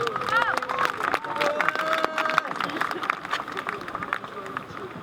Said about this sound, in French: Donc Claire-Anne de Galilée, je vous demande de l'applaudir s'il vous plaît.